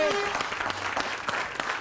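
A television talk-show studio audience applauds, a short burst of clapping under a speaking voice.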